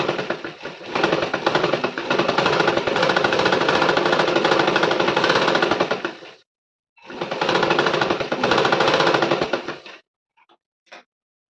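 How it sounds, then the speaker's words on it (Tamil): Electric sewing machine stitching small underwear fabric in a Tamil beginner's tailoring lesson: a dense, steady mechanical whir runs for about six seconds, stops briefly, then resumes for three more before a few faint clicks. "அந்த டைரக்ஷன்ல தான் நான் வந்து தைக்கிறேன்"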